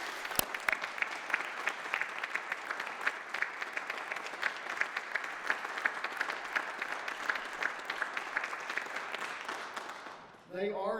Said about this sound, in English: Ladies and gentlemen, will you applaud these friends?